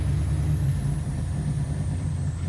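A 1969 Camaro's engine runs at a steady, close low rumble, settling into an even idle with no talk over it.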